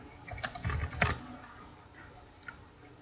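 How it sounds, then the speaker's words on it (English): Quick burst of keystrokes on a computer keyboard while entering a password during router setup, a handful of close, soft clicks in the first second or so, then near silence with one faint tap later. "We're gonna type password"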